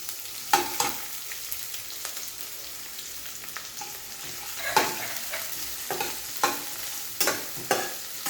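Onion frying in oil with chillies for kande pohe, a steady crackling sizzle broken by repeated sharp scrapes and knocks of a spatula against the pan, close up and without talk.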